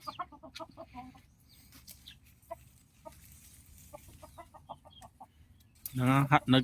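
Chickens cluck in quick, scattered bursts nearby, with a loud squawk near the end.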